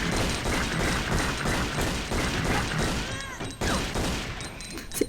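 Rapid gunfire bursts in a Tomb Raider Level Editor custom level, loud and continuous, mixed with mechanical clatter and a closing thud, with no talking.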